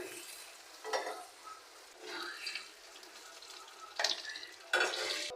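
Potatoes frying with eggs in an oiled pan in a home kitchen, a soft continuous sizzle broken by several scraping stirs of a utensil at irregular intervals, fairly quiet and with no talking.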